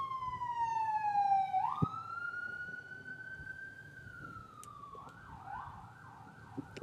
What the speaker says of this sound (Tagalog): Ambulance ata yan.